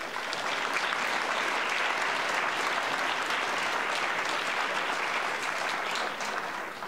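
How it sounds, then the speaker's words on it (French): A large crowd claps loudly and steadily for several seconds at a school talent show final, a dense wash of applause that tapers slightly at the end. "J'aimerais aussi qu'on donne une bonne main d'applaudissements au jury de ce soir."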